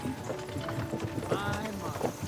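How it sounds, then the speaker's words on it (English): Horse hooves clop on the ground in the medieval role-playing video game Kingdom Come: Deliverance II, a quick irregular beat at close range under a light murmur of voices. "What a beautiful horse."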